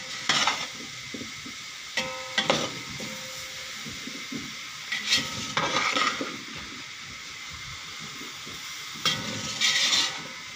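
Lasoda pickle is stirred gently with a spoon in a hot pan, giving soft sizzling hiss and occasional scrapes and clinks against the pan in slow, spaced strokes with quiet gaps between.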